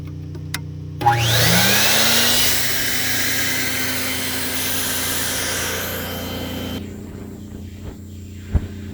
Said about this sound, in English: this is the blower system that I'm going to use to inflate the airform.